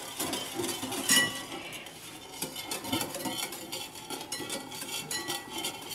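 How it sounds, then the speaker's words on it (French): Egg custard and orange blossom water being mixed in a bowl, a utensil scraping and clinking against the sides in a steady, close stirring rhythm with no talk. "Et maintenant je vais mélanger."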